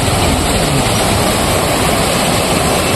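Waterfall at Mae Moei National Park in Thailand, a steady, loud, dense rush of falling water close by, continuous with no pauses and no voices.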